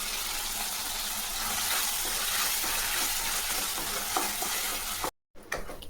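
Steady, close sizzling of tomatoes sautéing in a pan, with soft stirring scrapes throughout, cut off briefly near the end.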